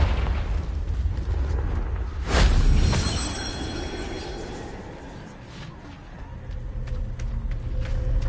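A Confringo fire spell explodes in the game Hogwarts Legacy, giving one loud burst about two seconds in. A deep rumble follows and slowly fades under steady background game noise.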